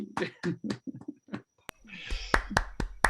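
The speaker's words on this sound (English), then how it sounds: "Let's all give each other a big round of applause" A few webinar participants applaud: sparse, sharp hand claps of varying loudness follow a stretch of talking, with a faint background hum.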